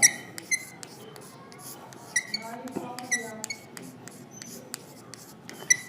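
A sentence being written on a board by hand, heard as a string of short scratchy strokes with sharp squeaks between quiet pauses, close by.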